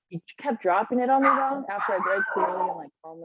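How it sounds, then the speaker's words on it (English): A pet dog barks twice, short and sharp, at the start and end while someone talks steadily in between. "Sorry, that's my dog."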